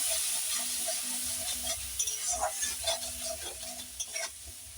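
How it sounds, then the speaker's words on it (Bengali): Spices such as cumin and coriander powder with salt are stirred and sautéed with a little water in a pan while cooking figs, giving soft sizzling with scraping stir strokes, faint and close, and no talk. "এই সব রকম মশলা দিয়ে আমি ভালো করে একটু জল দিয়ে কষে নেব"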